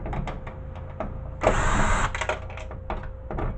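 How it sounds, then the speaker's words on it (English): A DeWalt cordless power drill whirs in one loud burst lasting about half a second, surrounded by clicks, clatter and handling noise while dismantling a flat-screen computer monitor. "My power drill is a DeWalt."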